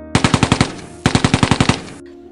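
Two rapid bursts of automatic gunfire from terrorists, each a string of about six or seven loud sharp shots, separated by a short pause, with no voices.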